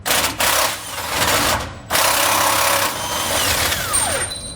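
A power tool with a 21mm socket zips off the lower nuts of a Roadmaster rear anti-sway bar on a 2019 Fleetwood, in loud, close whirring bursts separated by short pauses.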